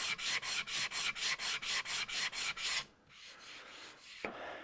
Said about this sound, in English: just take a small sanding block